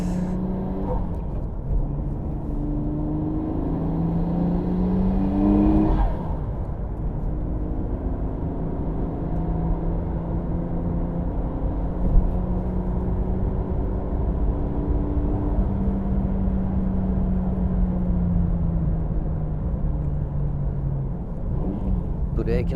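A Nissan Skyline GT-R R33, fully restored by Mine's, drives at speed, its engine droning steadily and rising through gears, with someone talking over it throughout.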